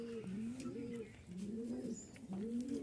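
Beauty and Bombai breed pigeons cooing, three rising-falling coos in a steady rhythm, close and clear over quiet background.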